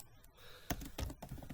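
A few scattered keystrokes and clacks from typing on a computer keyboard during spreadsheet work, fairly close and moderately loud, with short irregular bursts rather than steady typing.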